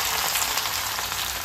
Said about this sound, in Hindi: रिफाइंड ऑयल में ले लिया है बहुत सारी ज्वैन और जीरा, अब बस इसमें इसे तड़का मार देंगे